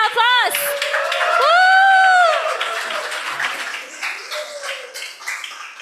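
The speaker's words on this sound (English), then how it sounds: "Give them another round of applause" An audience applauds the business founders, with rising whoops and a loud, drawn-out cheer from a nearby voice at the start, then scattered clapping and crowd noise.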